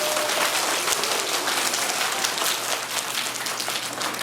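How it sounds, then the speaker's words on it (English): A school assembly audience applauds after a coin-drive announcement, a dense, steady wash of many hands clapping at full volume throughout, with no speech over it. "Let's give a round of applause for everybody."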